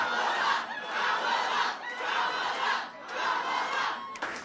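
A crowd cheering Kamala Harris at the Wilmington, Delaware campaign headquarters swells in loud, rhythmic waves of chanting and shouting, several surges in a row.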